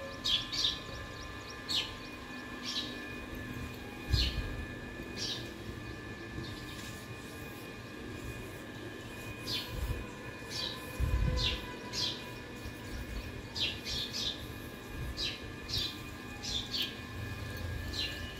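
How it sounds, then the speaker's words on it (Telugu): Small birds chirp in quick, scattered bursts, short high tweets repeating across a quiet background with occasional low thumps. "చూడండి ఎన్ని పక్షులు ఉన్నాయి, చాలా ఉంటాయి. పైన కూర్చున్నాయి."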